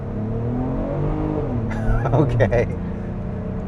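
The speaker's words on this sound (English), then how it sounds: "you can hear the engine a lot more" A 2026 Acura MDX Advance engine in sport mode drones steadily and builds briefly as the vehicle accelerates, with a person saying a single short word over it.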